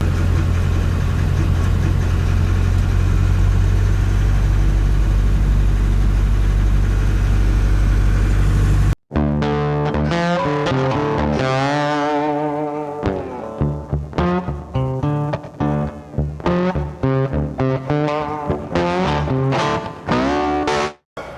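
A Fiat 682 truck engine runs while warming up, a dense, steady diesel rumble for several seconds before the sound cuts abruptly to a harsher, choppier, distorted passage.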